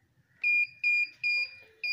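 An Arduino LiFi receiver beeps as it receives bits, four clear, close electronic tones of about a quarter second each, evenly spaced, with no talking.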